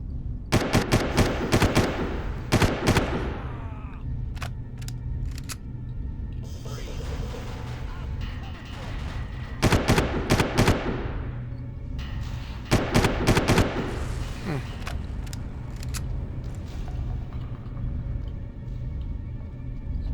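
Repeated bursts of gunfire in the first-person shooter Far Cry, with rapid automatic volleys and scattered single shots in clusters across the firefight, loud over a steady background of game ambience.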